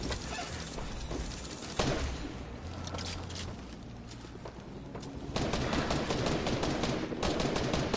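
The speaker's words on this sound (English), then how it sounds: "Somebody's got a minigun, dude." Sustained rapid-fire bursts of a video game minigun, a dense continuous rattle that dips briefly then resumes louder, with no talk over it.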